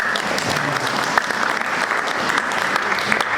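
A church congregation at a Sunday service applauds steadily, a continuous wash of many hands clapping at even volume throughout, with faint voices mixed in.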